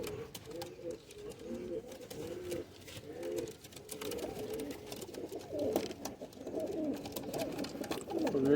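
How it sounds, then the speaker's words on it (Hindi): Pigeons coo in soft, repeated low rolling calls, close by, with faint background noise throughout. "ये है गर्मियों के शेर कबूतर।"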